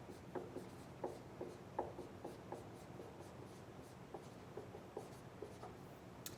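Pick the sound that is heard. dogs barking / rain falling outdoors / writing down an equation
writing down an equation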